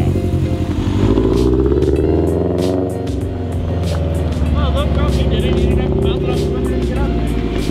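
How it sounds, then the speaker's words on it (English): A loud Subaru car engine revs and drones steadily throughout, with heavy low rumble and some clattering, heard from inside the car while voices talk over it. "I didn't bounce it off the limiter, the car's just loud."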